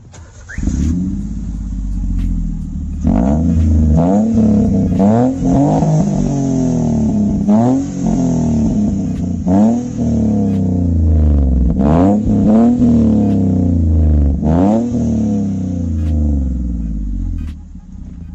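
Maruti Suzuki Alto K10 with a newly fitted free-flow exhaust revving loudly and repeatedly, each sharp rise in engine pitch falling back to a throaty idle, close by with no talking.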